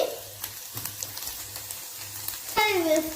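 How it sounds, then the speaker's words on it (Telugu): Paneer fries and sizzles in a pan while being stirred, with a soft continuous hiss broken by scraping spatula clicks and a louder clatter near the end. "ఇట్లా తిప్పుతూ మంచిగా బ్రౌన్ కలర్ అయ్యేటట్టు చేసుకోవాలి, ఫ్రై చేసుకోవాలి"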